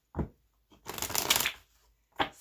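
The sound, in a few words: shuffling tarot cards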